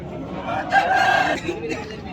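A rooster at a Sunday fighting-rooster market in Vijayawada gives one loud, close crow in the middle, over a background of market chatter and clucking.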